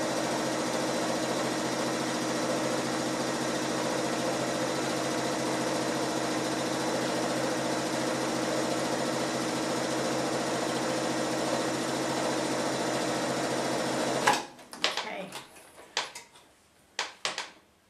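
A sewing machine stitches quilt pieces with a 1/4 inch seam, a steady, fast mechanical whir running continuously for about fourteen seconds, then stopping, followed by a few sharp handling clicks and knocks.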